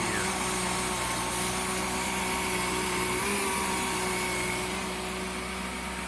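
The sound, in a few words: regulated air hissing from VMAC VR150 compressor regulator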